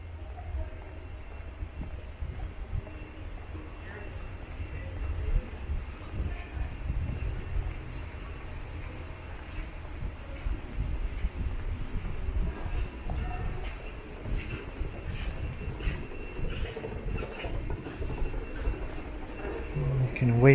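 GO commuter train rumbling inside Union Station, a steady low roll of wheels and carriages with occasional faint squeals, heard amid busy concourse ambience.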